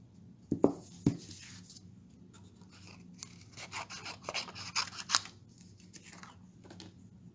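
Scissors cutting through patterned design paper for a handmade card, giving two sharp snips near the start followed by a run of softer rasping and snipping cuts, close and alone.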